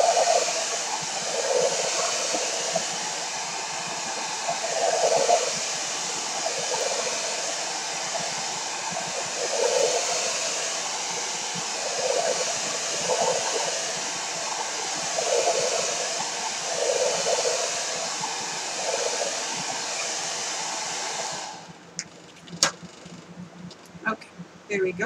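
A hair dryer blows on wet paint for a mixed-media painted circle piece, a loud continuous whirring drone lasting about twenty seconds before switching off, followed by a few brief clicks and handling knocks.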